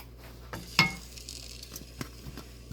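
Soft crackling sizzle of fenugreek and cumin frying in hot oil, fairly quiet, with a few sharp clinks of a utensil against the pan.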